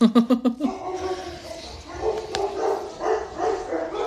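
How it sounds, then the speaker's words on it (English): Several dogs bark in quick bursts at the start, then continue more loosely with yips and whimpers further back in a room, fairly loud at first and fading. "My dogs are freaking out."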